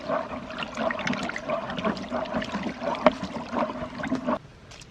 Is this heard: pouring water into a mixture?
yes